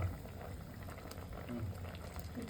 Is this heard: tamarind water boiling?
yes